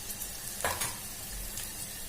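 Onion and green chili sauté in a pan with a soft, continuous sizzle, broken by a brief stirring scrape near the middle. The sizzle is fairly faint and there is no speech.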